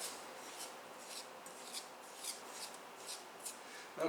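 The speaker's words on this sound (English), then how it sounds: "use your fingers to rub the sugar and the zest together until the sugar becomes nice and fragrant" Fingers rubbing sugar and lemon zest together in a bowl while making blueberry buckle, a soft, gritty rasping that repeats in steady strokes, close and quiet with no talking.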